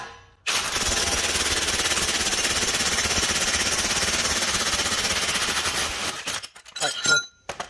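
A power tool tightens parts during a wheel bearing replacement on a 2014 Toyota Venza, a loud, close, rapid hammering rattle that runs continuously for about five seconds, then cuts off into a few scattered metallic clinks.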